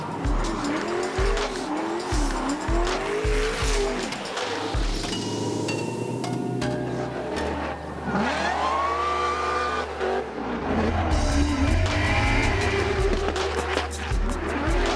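A Formula Drift Pro2 car drifts around the Orlando course, its engine revving loud and close while the tires squeal and skid through long slides; a faint voice comes through now and then.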